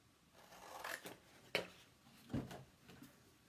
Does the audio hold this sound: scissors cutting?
yes